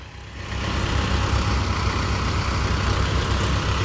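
Mahindra tractor diesel engine running steadily at 1000 RPM, a loud, close, continuous low rumble that builds up in the first half second and then holds even throughout.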